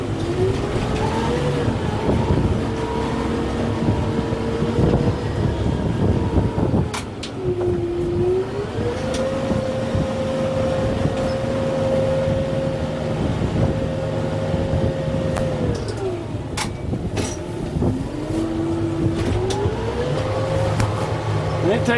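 A farm tractor with a grapple clearing a lot, its engine running loud and steady close by, the pitch rising and falling as the throttle changes throughout.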